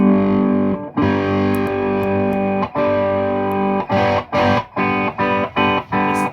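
Heavily distorted electric guitar through a Fuzz Face-style fuzz pedal prototype, thick fuzz, sustained chords that cut off and restart in short bursts, loud and close with no voices.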